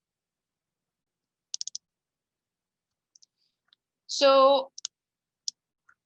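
A computer mouse clicks in Ansys Fluent software: a quick triple click, then a few scattered single clicks, with one short spoken word between them.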